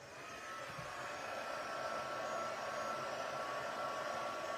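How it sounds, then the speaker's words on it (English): A heat gun blows continuously on spritzed cardstock during card making, a steady close whooshing hum that swells slightly at the start and then holds level. "Okay, sorry, heat gun's going on."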